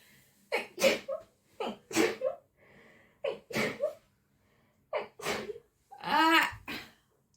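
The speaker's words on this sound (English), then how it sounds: "I always sneeze 3 times." A person sneezes repeatedly in quick succession, several sharp explosive bursts spaced about a second apart, each preceded by a short breath, close and fairly loud in a quiet room.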